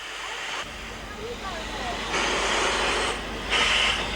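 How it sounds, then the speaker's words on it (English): The steam locomotive Hurricane on the Romney line backs onto her train, giving a continuous hissing, rumbling rail noise that swells in steps, with a voice talking over it. "Once off the turntable, Hurricane backs onto her train and the tender's topped up with coal."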